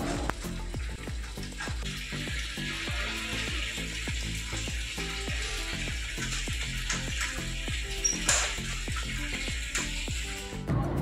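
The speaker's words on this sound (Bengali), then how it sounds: "আর কয়েকটা বাসন ছিল, তো মা এগুলো মেজে নিল।" Dishes are scrubbed and rinsed at a sink, with running water beneath rhythmic clinks and scraping knocks repeating close by.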